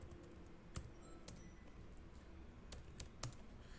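Soft, sparse key taps on a computer keyboard while a terminal command is entered, a handful of isolated clicks spread across a quiet background hiss, close but faint.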